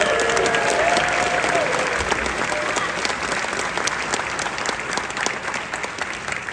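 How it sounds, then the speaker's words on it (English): Audience applause for film critic Matt Zoller Seitz before a JFK (1991) screening and Q&A with Oliver Stone: steady, dense clapping from a large crowd, loud and sustained throughout with no talking over it. "Can we give him a round of applause"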